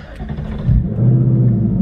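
A 2024 Ford Mustang GT with a Corsa exhaust rumbles at close range, then catches and settles into a loud, steady, deep idle.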